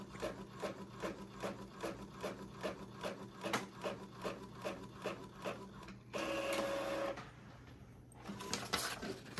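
An Epson EcoTank 2803 printer prints a page close by, with its feed mechanism ticking and rubbing in a regular rhythm, then a steady whir and a brief mechanical tone near the end; no one speaks.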